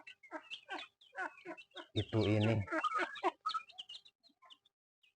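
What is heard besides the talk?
free-range village chickens clucking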